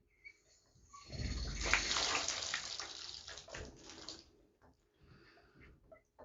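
Water runs and gurgles out of shower plumbing with the main valve shut off, a steady splashing flow that swells and then tapers away over several seconds.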